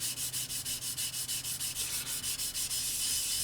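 A sanding sponge smoothing a glue seam on a plastic model kit of a 1:72 Jet Provost, making rapid, even back-and-forth scratchy strokes in a steady rhythm, close and quiet with no talk.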